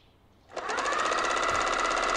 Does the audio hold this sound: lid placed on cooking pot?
no